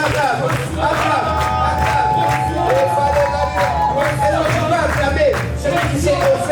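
A church congregation at a French-language worship service cheers and acclaims loudly, the dense crowd roar sustained throughout with tonal music underneath.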